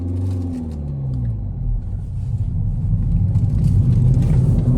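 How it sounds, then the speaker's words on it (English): A 2021 Kia Forte GT with a six-speed manual accelerating at full throttle in sixth gear, a low engine rumble building steadily in loudness and pitch inside the cabin. "I'm in 6th gear, I just floored it."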